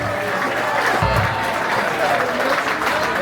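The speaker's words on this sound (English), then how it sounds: "Give them a big round of applause" Crowd applause and cheering at a live rock concert at the SG101 guitar festival, steady and fairly close, with voices mixed in.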